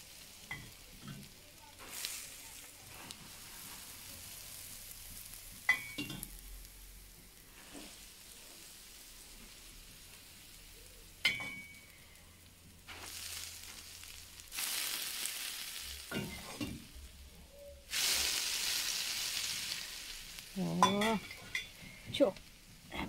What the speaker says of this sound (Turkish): Duru yağı kızdırarak döküyor.